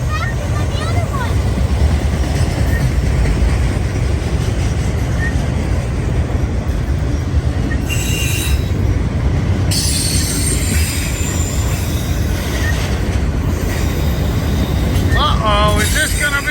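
A long CSX freight train with six engines rolls past close by, a steady loud rumble of wheels and cars with bursts of high wheel squeal partway through and near the end, while people talk over it.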